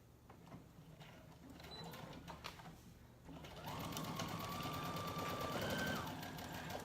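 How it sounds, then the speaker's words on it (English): A sewing machine stitches a waistband onto the top of a pair of shorts, a steady mechanical whir that grows louder and faster partway through, running continuously up close. "I'm going to sew the waistband to the top of the shorts"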